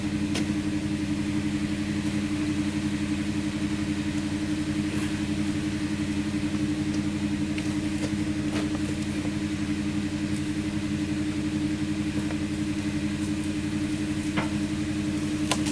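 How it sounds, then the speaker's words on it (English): Stickler log splitter driven by a vehicle engine, turning steadily through a piece of seasoned wood with a constant loud mechanical hum and occasional faint cracks, no talk. "I'd like to show you what it does with a piece of wood that's a little more seasoned."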